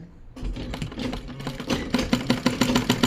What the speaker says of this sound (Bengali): এটা আমরা এইভাবে সেলাই দিয়ে পট্টি সহ সেলাই দিয়ে এর সাথে আটকায় দিব